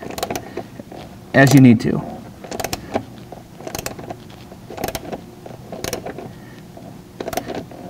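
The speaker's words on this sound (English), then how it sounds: "And then as it tightens up, you can move your hand down the ratchet" A hand ratchet tightens a nutsert, giving a steady series of sharp mechanical clicks about every half second, with a soft creak and a short spoken phrase near the start.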